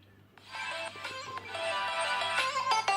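Ringtone melody from a Xiaomi Mi 8 Pro phone speaker at full volume, a bright tonal tune starting after a short quiet lead-in and playing steadily loud to the end.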